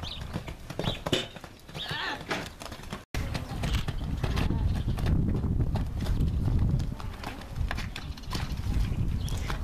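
A horse's hooves clop steadily at an outdoor riding session for obstacle training, with the footfalls close and continuous. A horse whinnies, wind buffets the microphone, and people talk throughout.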